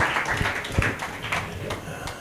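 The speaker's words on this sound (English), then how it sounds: "Help me clap for him as well" Audience members clapping together at a talk, a brief burst of overlapping claps with a voice faintly present beneath.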